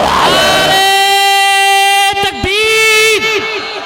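At a Ramzan religious gathering, a crowd chants religious slogans: a long, loud voiced call is held, then many voices answer together in strong, shouted bursts.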